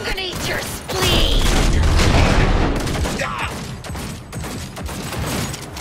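A loud, chaotic volley of gunfire and explosive bangs from a Cyberpunk 2077 firefight crackles densely for a couple of seconds, then continues as scattered shots and mechanical clatter.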